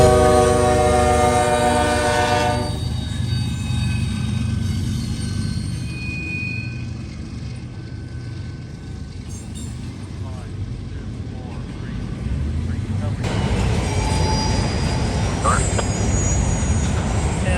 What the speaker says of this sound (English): yet another eastbound, high-priority intermodal came out